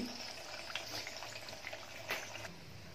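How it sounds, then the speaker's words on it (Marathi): Carrot and beetroot medu vada deep-frying in hot oil, a soft steady sizzle with scattered faint pops and crackles, quiet and continuous. "आता सगळे मेंदू वडे आहे ते तळून घेते"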